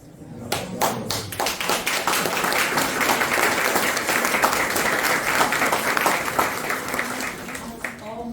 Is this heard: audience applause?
yes